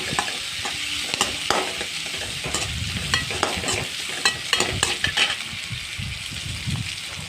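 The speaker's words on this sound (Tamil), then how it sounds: "ரெண்டு வெங்காயம் நல்லா வதங்கட்டும்" Two onions sautéing in a pan for a bottle gourd curry, a bright continuous sizzle broken by frequent busy scraping and tapping of the spatula, close up and free of talk.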